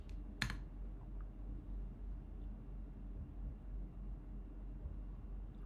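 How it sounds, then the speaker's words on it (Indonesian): Keys clatter as someone types into a Windows terminal, a faint run of soft clicks, with one sharper tap near the start, over a low steady background hum. "jadi di terminal Windows kita ngetik"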